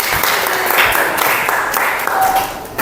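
A classroom group applauds after a student team's presentation in a science lesson, a short burst of dense clapping from many hands, fairly loud and close, with faint voices mixed in.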